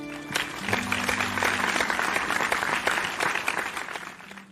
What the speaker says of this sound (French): Applaudissons pour les seigneurs.